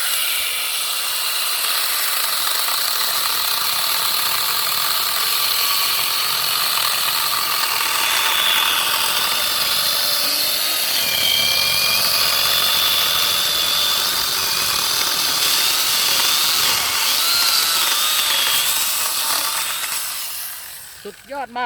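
A 99-volt cordless angle grinder fitted with a chainsaw bar cuts steadily, giving a loud, continuous high-pitched whine for about twenty seconds before it winds down and stops.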